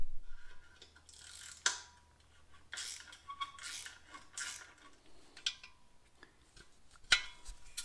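Socket ratchet working a nut on a Harley-Davidson EVO engine: quiet, close clicking ratchet strokes in short bursts with a few sharper metallic ticks between them.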